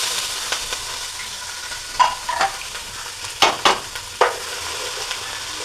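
Crushed ginger, garlic and green chili fry in hot oil, a soft continuous sizzle broken by several sharp stirring scrapes and clicks from a utensil in the pan, near and moderately quiet, with no talking.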